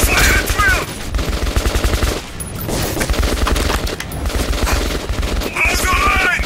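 Rapid automatic gunfire in a Metro 2033 Redux firefight comes as loud, close bursts, pausing briefly around the middle before resuming as a heavy fusillade.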